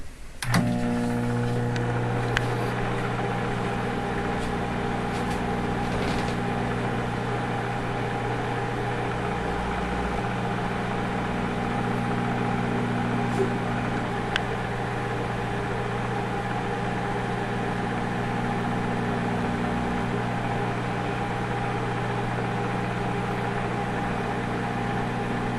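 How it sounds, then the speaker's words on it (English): A microwave oven runs steadily while warming a container of water for a Bialetti Brikka, its low, even hum holding unbroken for the whole stretch at moderate level. "Put it on for a minute."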